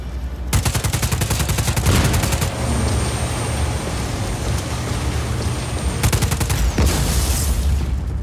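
SMG gunfire in Just Cause 4 aimed at a generator, loud rapid automatic bursts with a long sustained volley, a lull filled with crackling impacts, then another fast burst near the end.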